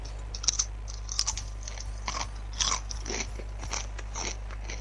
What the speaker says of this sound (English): I'm eating Doritos